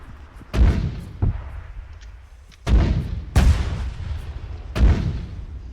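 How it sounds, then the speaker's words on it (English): Mortar fire in the Arma 3 video game on Stratis: several deep, booming launches and distant impacts spaced a second or two apart, each with a rumbling low tail, and no talking over them. "And I hear a mortar."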